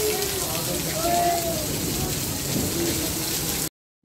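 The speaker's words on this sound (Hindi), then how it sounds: "बारिश आ गई, देखो कितनी तेज" Heavy rain pours down at a goods market near a railway station, a loud, dense, unbroken roar of drops hitting surfaces, with faint voices mixed in before it cuts off abruptly at the end.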